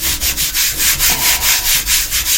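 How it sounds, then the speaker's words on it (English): Steady back-and-forth rubbing as a hand smooths wrinkled craft material flat for homemade Mickey and Minnie kitchen items, about a dozen even, close strokes in a regular rhythm with no talking. "smoothing, so those wrinkles in the material come out, and it's a nice, smooth, flat surface"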